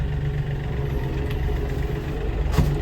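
Tractor engine running steadily in 4-wheel drive with a heavy load on the front loader, a continuous close low rumble with a brief rise in revs near the end.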